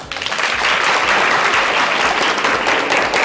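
A studio audience at a stage comedy show bursts into loud, sustained applause, clapping steadily for a few seconds without pause.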